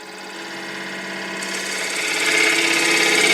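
Wood lathe spinning a bowl while a 3/8 inch detail gouge cuts into it, a steady mechanical whir with a rising hiss of cutting that grows louder toward the end, close and continuous.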